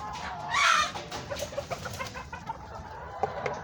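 Young hens in a new chicken coop cluck close by, a few loud squawks at first followed by softer, irregular clucks and murmurs.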